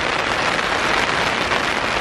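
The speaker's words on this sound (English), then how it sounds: "Can you hear the rain?" Heavy rain pouring onto an umbrella outdoors near a Korean university, a dense, continuous close-up patter and hiss with no break.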